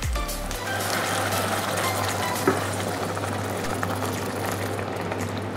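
Chicken and mushrooms with cream added sizzle steadily in a pan for a creamy chicken-mushroom dish, a continuous frying hiss with occasional stirring scrapes and a steady low hum, no talk.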